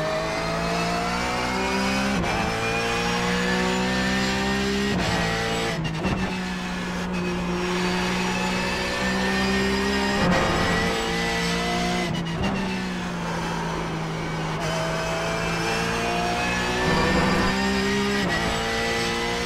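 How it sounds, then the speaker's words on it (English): A Porsche GT3 Cup race car engine in the iRacing video game at Watkins Glen roars continuously, rising and falling through gear shifts with revving, loud and close, with occasional tire squeal and no talking. "They have an engine tone that just stands out"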